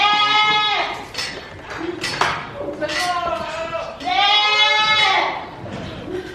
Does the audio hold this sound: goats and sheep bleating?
yes